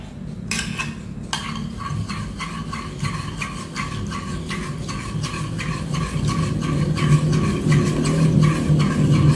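Cookie-style sponge cake batter is stirred in a bowl with quick, regular clicking strokes of the utensil. The strokes run close and steady over several seconds without speech.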